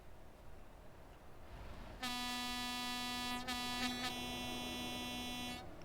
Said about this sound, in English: Wow, that horn changed tones like 3 times.